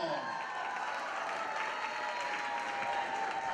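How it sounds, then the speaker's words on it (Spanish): An audience at a Zumba dance show applauds steadily, a dense continuous wash of clapping held at even loudness throughout, with faint voices mixed in. "¡Fuerte los aplausos!"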